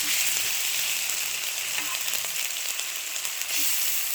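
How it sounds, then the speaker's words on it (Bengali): Onion, ginger and coriander paste frying in oil, a steady bright sizzle with soft crackles running the whole time, close and fairly loud, no voices. "আমি এবার সব মশলাগুলো ভালো করে একটু কষিয়ে নেব"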